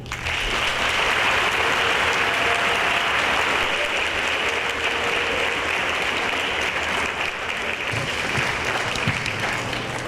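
A graduation audience at an adult education ceremony claps after a speech, a dense, steady wall of applause sustained throughout at high level.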